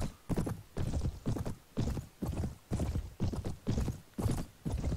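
Rhythmic clip-clop of horse hooves at a steady trot in the video game Mount & Blade, loud and close, with a horse whinnying partway through.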